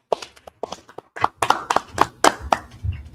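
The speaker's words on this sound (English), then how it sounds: "Let's clap it up." A small group of people clapping at close range, a dozen or so uneven claps spread over about three seconds with short gaps between them.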